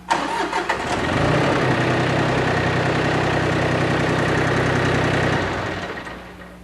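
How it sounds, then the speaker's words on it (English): A Case IH tractor engine from a 1989 mid-mount mower setup cranks and catches, then runs loudly and steadily with a knocking diesel rumble for several seconds before winding down. "We will now start the tractor and raise the hitch"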